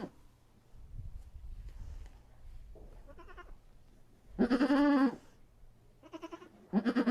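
Goat bleats loudly and close, several wavering calls in bursts with quiet pauses between, faint rustling underneath and no talk.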